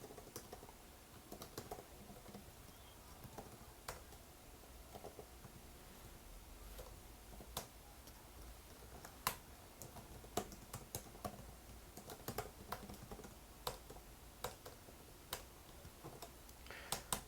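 Someone types code at a computer keyboard while making a Swift iOS game, giving quiet, irregular clicking keystrokes with short pauses and a few sharper taps and no talking.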